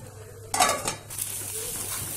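A metal lid clanks onto a pot of mango sheera with a sharp rattle, followed by a light scrape and a soft, steady hiss.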